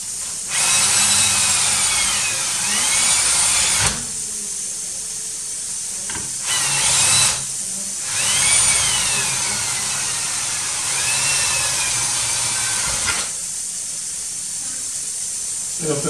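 Power drill boring holes while fitting new Herralum aluminum rollers and handle, several loud, steady whirring bursts of a few seconds each with brief pauses between, close up with no talking.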